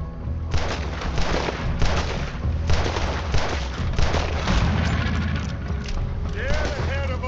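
Dense, continuous gunfire from a Red Dead Redemption fight in Saint Denis, volleys of shots layered over a low rumbling bed for several seconds, with a shout near the end.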